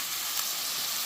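Ground meat sizzles in a pot with a steady, close hiss of frying that holds evenly without breaks.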